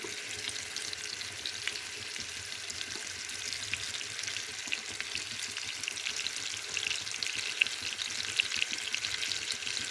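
Fish pieces sizzle steadily in hot oil, a continuous bright crackle with faint scattered pops, fairly quiet and unbroken throughout, with no voices.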